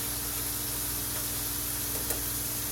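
Callaloo greens with dandelion frying in a pan for a Jamaican breakfast, giving a steady, close sizzle and hiss that runs unbroken for a few seconds with no talk over it.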